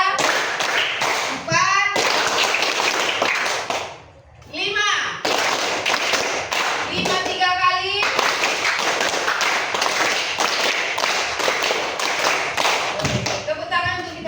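Schoolchildren in a classroom play a counting clap game, sharp rhythmic claps in quick bursts broken by brief pauses, with young voices chanting numbers between them.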